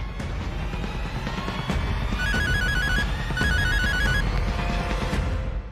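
A telephone ringtone trills in two repeated electronic bursts, clear and close over a busy, noisy background, with no talk over it.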